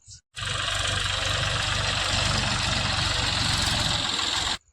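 A tractor engine runs at a steady, loud, close idle in a field after sowing, a constant low rumble with rhythmic knocking that starts abruptly and cuts off just before the end.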